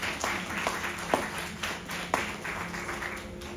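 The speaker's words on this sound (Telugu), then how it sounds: "చప్పట్లు కొట్టండి" A congregation at an outdoor gospel meeting claps hands in a steady rhythm, with a clap roughly every half second over a busy background.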